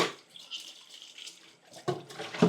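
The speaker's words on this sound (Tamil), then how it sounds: "இதை நாங்கள் சுடு தண்ணியில் நல்லா கழுவ வேணும்" Hot water running from a tap while something is washed, intermittent splashing and trickling with louder bursts near the end, fairly quiet and close, no talking.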